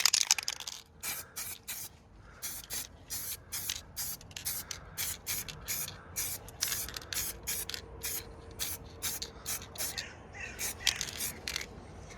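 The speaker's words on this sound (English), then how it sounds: "I'm just going to apply some of my olive green that I get from Paints For You" Aerosol can spraying olive green paint onto a military jeep's battery box: a long run of short, close hissing bursts in a steady rhythm, separated by brief pauses, with no talking.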